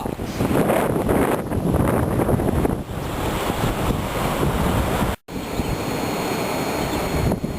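Ocean surf rolls onto Lagoon Beach west of Moruga, Trinidad, a loud steady wash of breaking waves mixed with heavy wind buffeting the microphone, with a brief dropout near the end.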